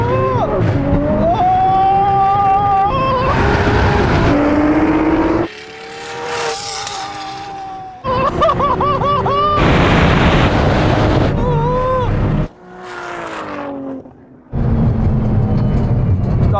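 Nissan GT-R cars of 1600, 1000 and 650 horsepower accelerate hard in a standing quarter mile drag race, engines climbing through rising revs and gear changes in loud, roaring bursts broken by short pauses between cuts.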